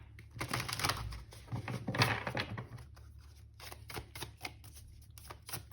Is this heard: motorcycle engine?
no